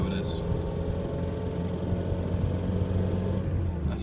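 A Ford Fiesta engine with a valve clearance slightly over maximum runs under applied throttle, a steady close low rumble holding through the whole stretch with only slight swells.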